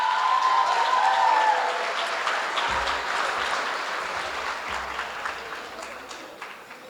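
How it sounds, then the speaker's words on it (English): An audience at a gala dinner applauds an award presenter: steady, fairly loud clapping from a crowd that slowly thins and fades toward the end, with faint voices under it. "A round of applause, please, for her."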